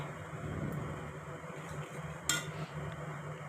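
Paneer stirred into spinach in a pan for Bengali-style palak paneer: a faint, soft low bubbling and scraping, with light utensil clinks and one sharper metal knock partway through.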